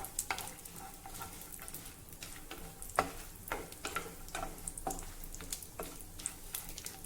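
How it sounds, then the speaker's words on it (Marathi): Cashew and almond pieces roast in hot ghee, a soft crackling sizzle broken by light rhythmic taps and scrapes of a spoon stirring the pan. "तूप गरम झालं की त्यामध्ये काजू आणि बदामचे तुकडे घालूया आणि हे आपल्याला थोडे परतवून घ्यायचे आहे"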